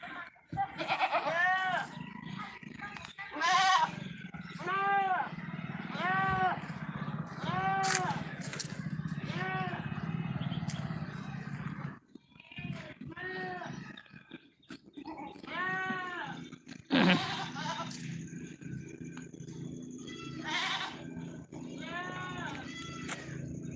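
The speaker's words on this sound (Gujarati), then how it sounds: "આ છે મારા બકરો" Goats on a farm bleat again and again in loud, wavering cries close by, with short pauses between calls and quieter farmyard background noise.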